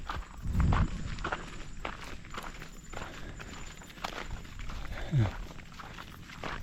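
People walk along a path on the way to buy a goat, their footsteps crunching in an uneven rhythm close by, with occasional louder thumps and some talk in the background.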